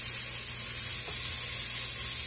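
Onions and peppers cooking down in a pan for greens, a loud, steady, even sizzle with a bright hiss that holds unchanged throughout, no voices.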